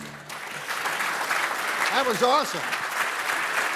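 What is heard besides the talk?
audience applause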